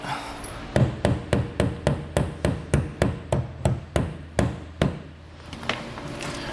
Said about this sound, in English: I'll go back with my hammer and smooth that out